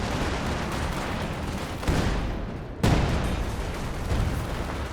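Howitzer shell explosions in Company of Heroes 2, a World War II strategy game battle, with two loud booming blasts about a second apart standing out over a continuous din of gunfire.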